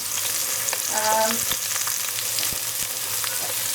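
Beef sizzles loudly while browning in a Pressure King Pro pressure cooker, a steady crackling fry with a few soft clinks of utensils and no talking.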